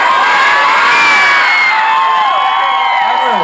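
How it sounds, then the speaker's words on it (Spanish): A crowd at a live event in Monterrey, Casanare shouts and cheers loudly together on cue, a dense continuous roar of many voices with high whoops rising over it for a few seconds. "todo el mundo va a gritar, va a levantar las manos y va a gritar pura playa"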